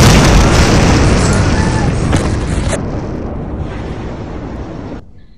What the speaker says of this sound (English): The second explosion happened.